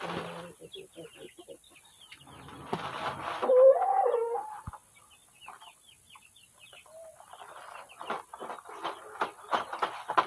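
Chickens and chicks at a village coop make scattered clucks and high peeping calls, close by, with someone talking in between and under them.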